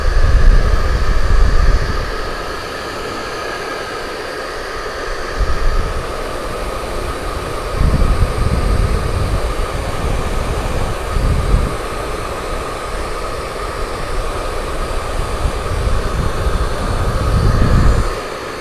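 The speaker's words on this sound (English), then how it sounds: "for a minute I was thinking my blow dryer wasn't plugged in" A blow dryer running steadily at close range, a continuous loud whooshing airflow with a tonal whine, with low-frequency bumps as it is moved around, no talking.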